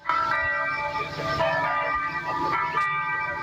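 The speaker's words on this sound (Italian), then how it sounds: "le campane di Premariacco suonano a morto" The church bells of Premariacco toll a death knell in slow, resonant strikes, their tones overlapping and lingering, heard from a moderate distance with faint ambient noise beneath.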